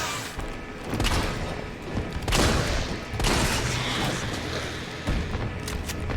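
Video game gunfire comes as rapid bursts of shots and booming impacts, loud and dense, with a few heavier thumps spread across the stretch.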